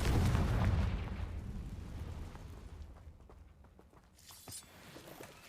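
A Confringo fire spell explodes in the Hogwarts Legacy video game, a heavy booming blast that opens loud and rolls into a long rumbling decay, with a few sharp crackles near the end.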